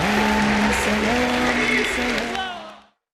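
Loud, dense applause from a large audience welcoming Dr. Zakir Naik at his first address in Pakistan, sustained for about three seconds before fading out.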